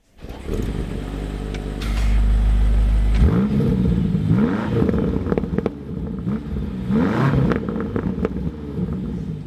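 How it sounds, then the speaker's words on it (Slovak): A Land Rover Defender Octa V8 cranks and fires up, then settles into a deep, loud idle broken by a few throttle blips, the eight-cylinder rumble rising and falling close by with no talking. "takže si to auto rovno naštartujeme a počúvajte ten 8-valec"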